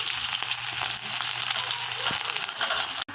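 Onion frying in oil in a kadai for a crab and prawn curry, a steady loud close sizzle running throughout with faint crackles and no talking.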